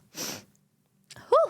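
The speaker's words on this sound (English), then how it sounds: "Yeah, chat's interaction is always like going up when I sneeze." A single sharp sneeze from a streamer, close and loud, followed after a brief pause by a breathy exhale of relief.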